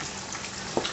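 Catfish fillets frying in a pan of hot oil, a steady close crackling sizzle with small pops and one brief louder spatter near the end.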